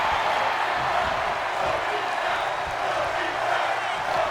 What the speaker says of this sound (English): you can hear the crowd showing respect to both these men